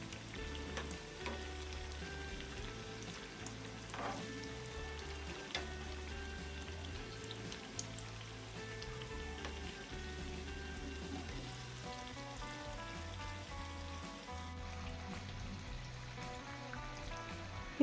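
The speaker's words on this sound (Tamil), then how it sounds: "நல்லா மொறுமொருண்டு பொரியிற வரைக்கும் அடுப்பில் வைங்க" Drumstick flower vadai deep-frying in hot oil on a stove, a continuous fine crackling sizzle that stays even and fairly quiet throughout, with no voices.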